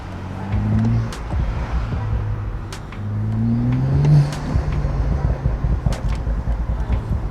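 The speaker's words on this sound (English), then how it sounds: "The turbo sounds mad." A BMW M135i turbo engine revs repeatedly up close, rising and falling in loud surges, with a whirring build between the pulls.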